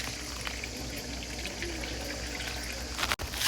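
Water poured over freshly washed apricots for jam, a steady close splashing and trickling that runs unbroken for a few seconds, then stops abruptly.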